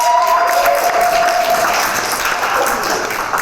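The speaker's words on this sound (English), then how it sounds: "Just go ahead and clap for it now." An audience applauds at the 2022 Patterson Poetry Festival, dense loud clapping that holds steady and eases only slightly toward the end, with a voice briefly cutting through early on.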